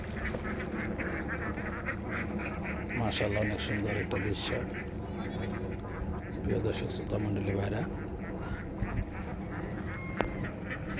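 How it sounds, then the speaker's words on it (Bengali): Ducks quack at a village pond where nets are being readied for fishing, calls mixed into a busy outdoor scene while someone talks over them throughout. "হাঁস লাফি লাফি নামতেছে"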